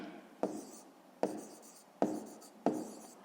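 Pen strokes writing out a fifth-grade math solution by hand, four distinct scratchy strokes in a steady rhythm, close and fairly quiet with no talk.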